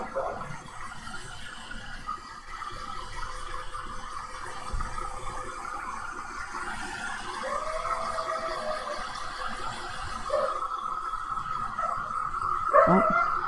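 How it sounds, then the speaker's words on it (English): Dogs going off at a house, faint yips and whimpering barks that come and go under a steady background hum, with a sharper outburst near the end. "Sorry about that if you hear the dogs going off."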